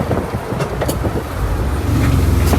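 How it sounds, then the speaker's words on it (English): VW Bus with a Subaru engine conversion and custom exhaust, accelerating hard in second gear. A loud, close, steady engine drone builds toward the end over road and cabin noise. "I'm going to get around this turn and we'll do another second gear pull."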